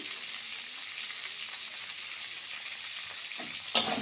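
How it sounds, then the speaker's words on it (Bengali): Potatoes and tomatoes fry in oil, giving a soft, steady sizzle heard close but quiet, with a brief sharper burst near the end. "এবার আরেকটু ভেজে নিই টমেটোটা নরম হয়ে যাবে"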